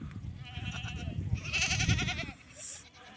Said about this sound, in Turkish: Sağ keçi təsərrüfatımız satılır.